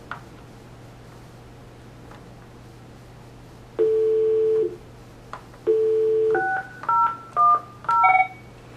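Keypad tones from an Avaya 9620/9640 desk telephone being dialed: two long tones, then a quick run of five or six short beeps, over a steady low hum with no talking.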